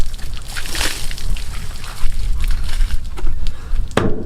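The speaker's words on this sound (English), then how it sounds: "right now I fill the water around 40 basket to this main drum" Water poured and sloshed into the main drum of a water tank by the river, a close, loud, choppy splashing and gurgling that continues throughout and ends with a sharp knock.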